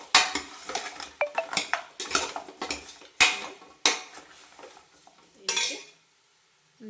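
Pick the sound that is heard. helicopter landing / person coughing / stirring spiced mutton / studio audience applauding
stirring spiced mutton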